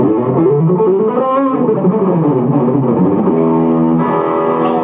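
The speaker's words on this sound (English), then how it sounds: "going straight into this amplifier with a little distortion pedal" A loud, gritty electric guitar, played through a distortion pedal straight into an amplifier, plays a sliding phrase, then settles into sustained, buzzing chords.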